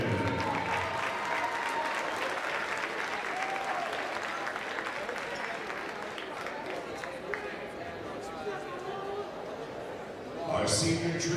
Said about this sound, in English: Big round of applause for Keith Watson.